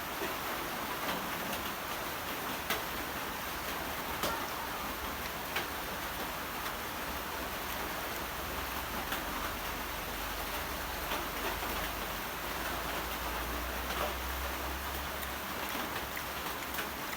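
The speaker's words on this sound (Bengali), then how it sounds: "বাইরে বৃষ্টি হচ্ছে" Steady rain falls outside, a dense even hiss that holds through the whole stretch with a few faint ticks and taps, moderately loud and close, with no one speaking.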